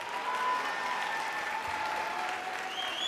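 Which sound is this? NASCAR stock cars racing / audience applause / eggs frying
audience applause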